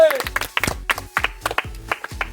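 Hands clapping in a quick, loud rhythmic series of sharp close claps at an outdoor game contest, with voices talking over them.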